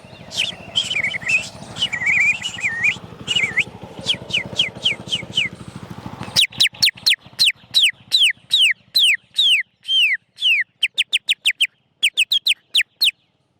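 A mimicry artist voices a small bird, starting with rapid warbling chirps over a low background hum, then sharp, evenly spaced tweets repeated in quick succession, clear and close.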